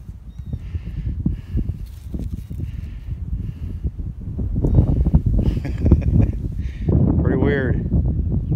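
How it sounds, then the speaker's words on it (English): Strong wind blows outdoors on an open field during spring shed antler hunting, buffeting the microphone with steady low rumble and gusts throughout, while someone talks and footsteps crunch underneath. "It's a little windy out here"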